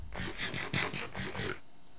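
A loaf of bread is eaten in the Minecraft video game, making a quick run of about six crunchy, chewing bursts in steady rhythm, close and moderately loud, then silence.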